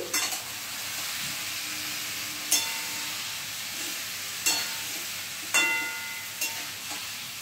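Spice-coated shol fish fries in a kadai with a soft, continuous sizzle, broken by a few sharp spatula knocks and scrapes spaced several seconds apart; fairly quiet and free of talk.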